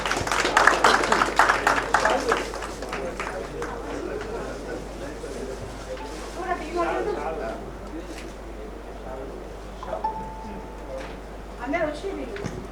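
An audience at a human rights organisation's anniversary ceremony claps for a chief guest, a burst of applause in the first seconds that thins out under a room of voices.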